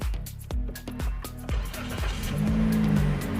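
A red 2020 Toyota Yaris TRD Sportivo with push-button start has its engine fired up close by, and the motor settles into a rhythmic, pulsing idle that steadily grows fuller.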